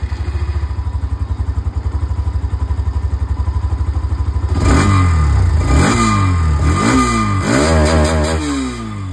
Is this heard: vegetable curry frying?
no